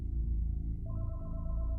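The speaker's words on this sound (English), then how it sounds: "Then, the phone in the house began to ring, and the killer just froze." A house telephone rings with an electronic warbling tone that starts partway through and repeats steadily, heard over a low, heavy rumbling background.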